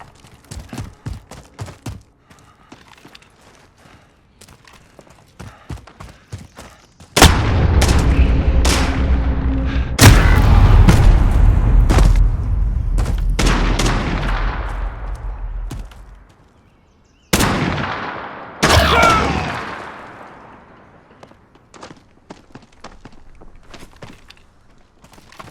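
Heavy video game gunfire during a round-based shootout: loud bursts of booming shots and rapid fire crowd the middle stretch, with sharp isolated cracks and lighter clicks before and after.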